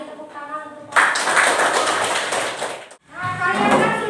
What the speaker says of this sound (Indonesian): Kasih tepuk tangan untuk